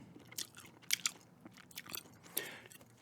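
Chewing gum is worked close to the microphone in a soft-spoken ASMR setting, with irregular wet clicks and smacks spaced a fraction of a second apart against a quiet background.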